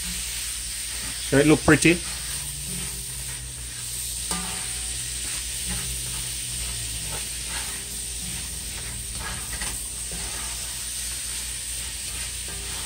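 Zucchini frying in coconut oil with garlic, a constant hissing sizzle with a few louder crackles early on, while a person talks briefly over it.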